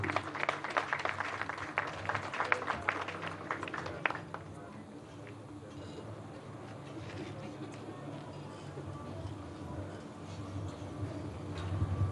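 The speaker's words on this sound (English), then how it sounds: "Please, a round of applause for him." Audience applause welcoming the board chairman of Ecobank Ghana Limited at a formal event, a dense burst of clapping for about four seconds that then fades into a low murmur of room noise.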